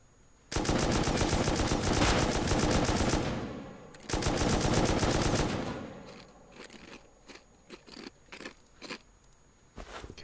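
Rapid automatic gunfire in the survival video game Rust, two long sustained bursts of fast shots followed by a scattering of single shots and short volleys.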